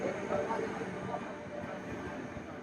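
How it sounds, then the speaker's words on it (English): A Romanian train arriving at a station platform on the Dacia Express route, a broad, rumbling rolling noise with faint clanks, heard from the platform at a moderate distance. "Here she comes! The Romanian train!"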